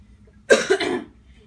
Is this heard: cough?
yes